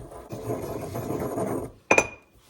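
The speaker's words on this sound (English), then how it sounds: "these spices that I just blended all up with the mortar and pestle" Spices ground in a mortar and pestle, a rough scraping and grinding rub followed by a sharp knock, close and moderately loud with no talking.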